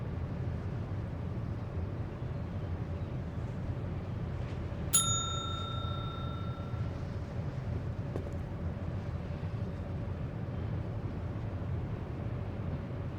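Doorbell chime in the point-and-click game Secret Files 2, a single bright ring with a short sustained tone over steady background ambience, no talk.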